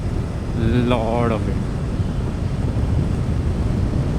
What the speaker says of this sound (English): it's extremely windy right now. There's a lot of wind.